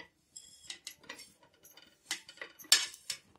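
Roasted dried baby prawns being scooped out of a hot pan, giving a series of soft metallic scrapes, light clinks and rattles of a spoon against the pan, irregular and fairly quiet.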